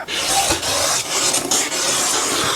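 Quilt block fabric being trimmed up close, loud rough rasping strokes repeating unevenly over a couple of seconds with no talking.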